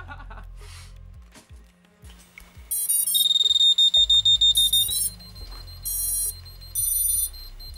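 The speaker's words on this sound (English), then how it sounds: "that beeper is going to beep until you have something transmitting" A small racing drone's beeper sounds in repeated bursts of sharp, high-pitched electronic beeps, near and fairly loud, broken by clicks and handling noises from the build bench.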